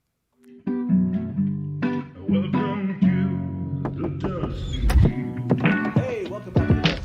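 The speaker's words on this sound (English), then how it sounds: "It's a confetti cannon. 3, 2, 1!" A confetti cannon is fired at a bar's anniversary celebration livestream, a soft dull pop amid a busy mix of voices and background music that continues throughout.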